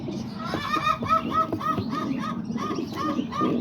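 Soft repeated pigeon calls, cooing and chirping in quick succession, close by in a loft, over a steady background rumble of rain.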